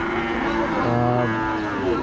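A single low, drawn-out moo from a cow at a Qurbani cattle market in Rajshahi, close and clear, with faint background noise around it.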